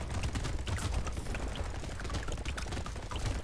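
An explosion turret fires during a horde wave in the video game Brotato, producing a dense, continuous rattle of rapid mechanical pops and clicks that layer into a steady chaotic barrage with no talking.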